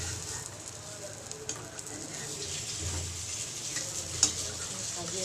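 Flour frying in a pan for a sour fish curry, a soft steady sizzle with occasional scrapes and light clinks of a spoon stirring, close and fairly quiet, with no talking over it.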